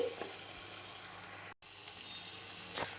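Jackfruit curry masala with sour curd sautéing in a pan, a steady soft sizzle and frying hiss running throughout with a brief gap midway.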